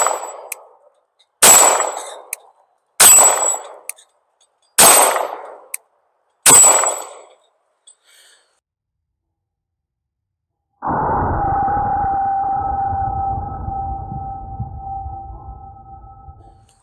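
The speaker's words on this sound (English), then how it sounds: "Let's move on, do some shots from single action." An Arex Zero 2 9mm handgun is fired in single action: five loud, sharp shots land about a second and a half apart, each with a short ringing decay. After a pause, a steady droning hum follows.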